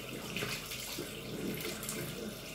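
Hot water runs from a tap into a sink in a steady, soft, continuous stream with no voices.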